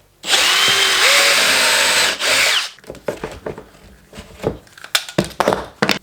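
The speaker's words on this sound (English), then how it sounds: "I can use this hole to guide my drill bit" A power drill bores through a guide hole in a clamped jig into a cabinet door to mark a hinge spot. It gives one loud, steady whine lasting a couple of seconds that dips in pitch, then stops, followed by a few clunks and handling knocks.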